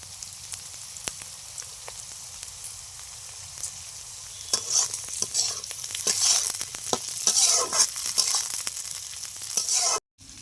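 Green chillies go into chilli mushroom frying in a pan: a quiet simmer swells into a loud, crackling sizzle with scraping stir strokes, close and continuous, ending abruptly.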